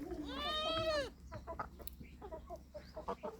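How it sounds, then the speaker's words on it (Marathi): A goat gives one loud, wavering bleat up close, followed by quieter scattered animal sounds and low voices. "तांबडी बांडी शेळी"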